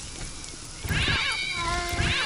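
Cats meow in Postal 2, where they are fired as projectiles: several loud, overlapping wavering meows over a constant hiss of rain-like noise.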